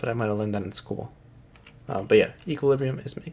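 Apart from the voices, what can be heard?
No distinct noise like a dog, phone or traffic.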